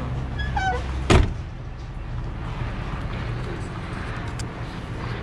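Power window motor on a 2003 Chevrolet Silverado 4x4 pickup, heard close up: a sharp click, then a steady whirring hum that runs for several seconds with no talking.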